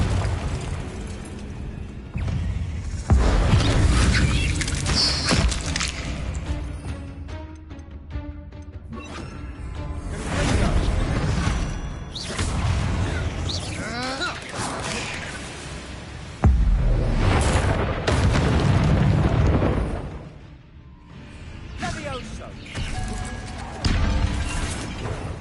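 Confringo fire spell blasts in Hogwarts Legacy: several loud bursting explosions and crashes come in waves across the clip, with debris shattering between hits.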